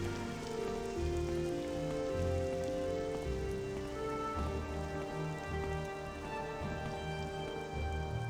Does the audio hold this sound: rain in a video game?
yes